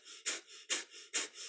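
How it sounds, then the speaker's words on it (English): Breath of fire in a kundalini yoga session: rapid panting breath through the nose, with three sharp, close exhales at an even rhythm and softer inhales between them. "If you're new to breath of fire, it's our panting breath, but through the nose."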